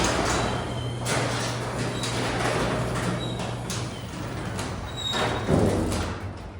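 A Liftmaster 81600 garage door opener raising a 16x7 Amarr Hillcrest 1000 door: a steady mechanical hum with a low drone, rattling panels and a louder clunk near the end, close by with no talking.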